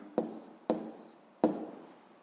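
A pen writing out an answer to a physics exercise, three short scratchy strokes spaced about half a second apart, close and fairly quiet with no talk.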